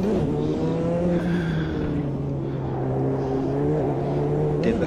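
A turbocharged race car engine in the racing game Automobilista 2 revs under load, its droning note rising and falling steadily and loud throughout, with no talk over it.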